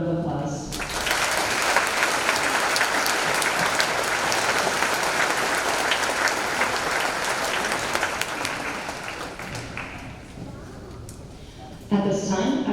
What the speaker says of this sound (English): Please join me in recognizing their accomplishments so far with a round of applause